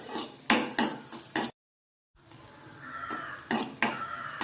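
Chopped garlic and green chillies sizzle in melted butter in a pan during prawn cooking, with several sharp stirring scrapes, a brief silent gap, then a steady frying hiss with more scraping, close and moderately loud.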